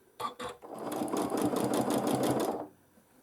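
Sewing machine free-motion quilting a paisley pattern, with two short stitching bursts and then a steady, fast, close-up run of needle clatter lasting about two seconds before it stops.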